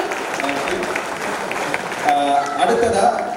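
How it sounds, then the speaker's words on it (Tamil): Audience applause after a dance performance at a Tamil cultural music event in the UK, a steady wash of clapping from a crowd that swells louder in the second half, with a voice speaking over it. "உங்களோட நடனத்தை பாராட்டி கைத்தட்டல் கொடுக்கலாம்"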